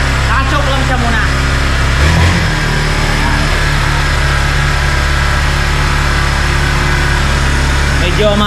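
A Kawasaki Barako 2 motorcycle engine idles steadily with the choke on, a constant close, loud drone throughout, while someone talks over it.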